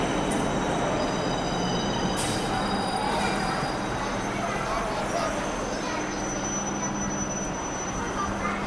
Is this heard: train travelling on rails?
yes